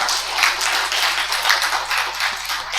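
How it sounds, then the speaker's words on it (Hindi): An audience at a faculty training inaugural session applauds, a dense, continuous round of many people clapping, close and fairly loud, with no speech over it. "ताली बजाएंगे"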